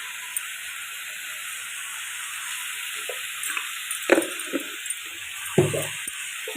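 Chicken pieces with turmeric sauté in a hot pan, giving a steady close hiss of frying with occasional scraping stirs and small clatters.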